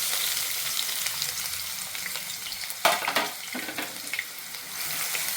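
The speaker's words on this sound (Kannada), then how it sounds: "ಈರುಳ್ಳಿನ ಸ್ವಲ್ಪ ಕೆಂಪಾಗಿ ಹುರ್ಕೊಳ್ಳೋಣ." Chopped onions frying in hot oil in a pan, a steady close sizzle with brief stirring scrapes partway through, no talking.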